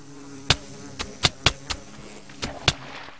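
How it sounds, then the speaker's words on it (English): Angry bees in the Minecraft video game, a steady buzzing drone broken by sharp clicking hits at irregular intervals, quiet overall and with no talk. "I'll still be surrounded by a cloud of angry bees."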